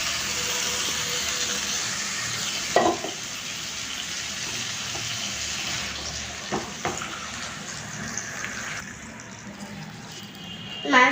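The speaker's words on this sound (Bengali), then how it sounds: "মাংসগুলোকে আমি নেড়ে চেড়ে মিশিয়ে নিচ্ছি।" Mutton pieces sizzling steadily in a pan of fried spice masala, a continuous hiss with occasional clinks and scrapes of a spoon stirring the meat, close and moderately loud.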